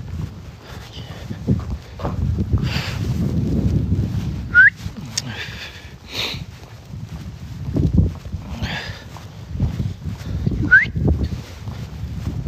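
A person whistles outdoors in Korea during a search for wild dogs, with two short, sharp rising whistles standing out over low rumbling background noise, footsteps and occasional talk.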